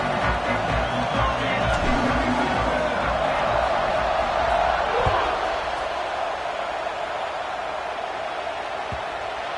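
Dense roaring stadium crowd from a College Football 26 game with Michigan playing Tennessee, a broad continuous wash of noise with occasional thumps, easing slightly toward the end, under a commentator's voice.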